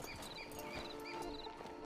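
Horse hooves clip-clop at a walking pace in the video game Red Dead Redemption 2, a quick, faint, even patter of steps set against a soft background wash of game ambience.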